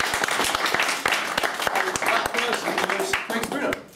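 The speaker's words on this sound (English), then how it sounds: "So give yourselves a round of applause for all of you guys." Players at a tabletop gaming tournament give a short burst of applause, quick, fairly close claps, with chatter and voices mixed in beneath the clapping.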